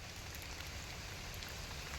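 Steady rain falls at the Bengal Safari park in Siliguri, making an even, dense patter on surfaces that holds at the same level from start to finish.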